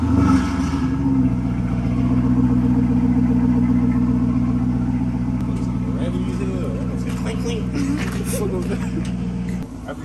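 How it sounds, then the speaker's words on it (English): A high-mileage HEMI car engine with over 300,000 miles runs steadily at idle just after an oil change, a low, continuous rumble holding even throughout with a few faint higher noises near the end. "then I'm gonna start the car"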